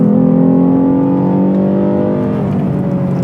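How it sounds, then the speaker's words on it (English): A Lexus naturally aspirated V6 fitted with a Takeda cold air intake revs loudly and close, a strong sustained engine tone with rising harmonics that slowly settle, heard alone without talk. "that naturally aspirated V6 sounds amazing right now."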